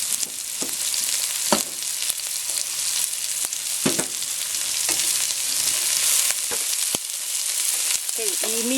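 Carrots fry in a hot pan for pancit bihon, giving a loud, continuous crackling sizzle with scattered sharp pops and stirring clacks throughout, and no talking.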